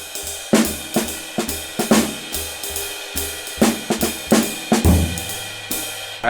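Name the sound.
jazz drum comping with accents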